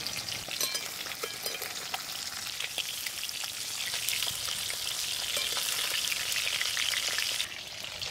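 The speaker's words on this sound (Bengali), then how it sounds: "মাছগুলো হালকা করে ভেজে নিয়েছি" Pieces of hilsa fish fry lightly in a pan, a dense, rain-like crackling sizzle that holds steady and close before easing slightly near the end.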